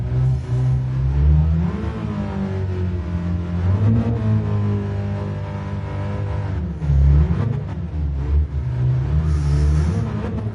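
A racing car in Gran Turismo, played in virtual reality with a Logitech G29 steering wheel, revs loudly. The engine and exhaust rise and fall in repeated swells as the car shifts and accelerates, with no talking.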